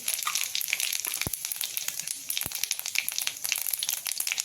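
Cumin seeds crackle and sizzle in a little hot oil in a pan, a fast, close run of tiny pops with two sharper snaps, heard alone without talk.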